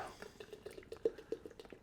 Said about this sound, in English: pouring that a bit hard